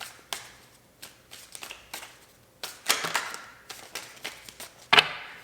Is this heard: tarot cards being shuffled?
yes